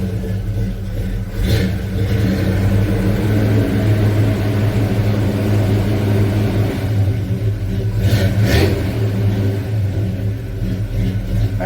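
The engine of a 1984 Chevy C10 pickup truck runs loud and steady with a deep rumble, and it revs up briefly a couple of times, heard close to the truck with no talking.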